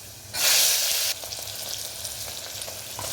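Cubed potatoes with bay leaf and a pinch of turmeric fry in hot oil, joined by tomato, for veg biryani: a loud burst of sizzling flares up, then eases into a steady, close crackle with no talking.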